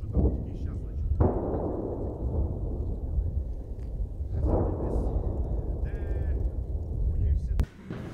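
Heavy booms from artillery bombardment in Irpin roll in at a distance, several deep thuds with long, rumbling decays, heard outdoors with faint sounds of people nearby.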